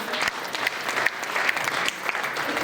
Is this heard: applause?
yes